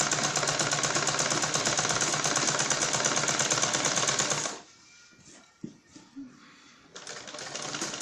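Sewing machine running steadily while stitching a double seam on a single-piping blouse, a loud continuous mechanical whir for about four and a half seconds, then stopping abruptly and leaving quiet handling noises before the motor starts again.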